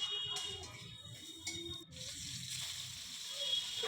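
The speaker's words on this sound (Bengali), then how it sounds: "এই দেখো, তেলে দেওয়া মাত্রই ভাজতে আরম্ভ করেছে।" Pieces of snakehead fish fry in hot oil, giving a steady, close sizzling hiss that swells after a brief clunk partway through, with faint low background murmur before it.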